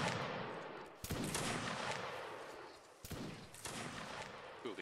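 Two loud musket volleys in a Napoleonic Wars video game ring out a couple of seconds apart, each a ragged burst of many shots trailing off into crackling echoes.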